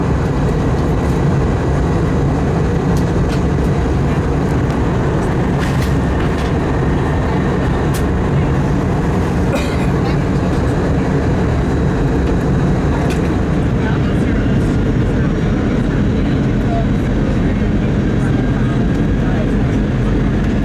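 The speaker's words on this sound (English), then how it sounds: "Comes our landing in Nashville on runway 2 center" Allegiant Air Airbus A320 landing at Nashville airport on runway 2 center, heard from inside the cabin as a loud, steady low rumble of engines and airflow with occasional faint clicks and rattles throughout.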